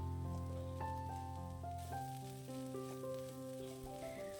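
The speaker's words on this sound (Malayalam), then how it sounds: "തുറന്ന് വെച്ച് നല്ലവണ്ണം ഇളക്കിയെടുക്കുക" Grated coconut and bitter gourd being stir-fried in an open pan for pavakka thoran, a steady sizzle with soft stirring scrapes under sustained tonal background music.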